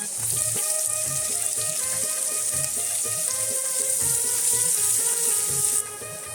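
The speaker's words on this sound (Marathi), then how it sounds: "लसूण लालसर झालेला आहे त्यात बारीक चिरेला कांदा घालून घेऊया" Finely chopped onion sizzling in hot oil with reddened garlic and ginger-garlic paste for a village-style Agri chicken curry, a steady close frying hiss with soft rhythmic stirring thuds, no talk.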